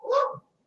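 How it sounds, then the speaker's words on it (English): A single dog bark, or a short bark-whimper, sounds outdoors at moderate volume and ends quickly, leaving silence. "as you maybe can hear dogs barking outside"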